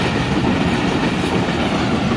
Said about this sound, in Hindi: ये देखिए जी रेलगाड़ी जो है ना वो गई, चले गई।